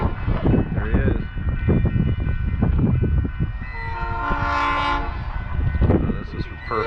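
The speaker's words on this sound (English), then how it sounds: "And there's more than one of these trains. I don't know exactly how many wine trains they got." A Napa Valley wine train rolls past close by, a steady rumble of wheels and carriages with a horn sounding through the middle, while a person talks over it.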